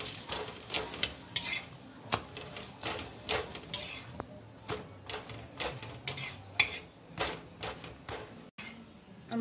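A vegetable paneer paratha roasts with a little oil in a pan, a light sizzle broken by repeated scraping and clinking of a spatula in an irregular rhythm, close and fairly quiet.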